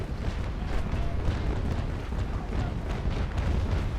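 Brig cannon fire rumbles in the naval battle game Naval Action Legends, a dense, continuous roll of heavy booms and rumbling across the whole stretch without a break.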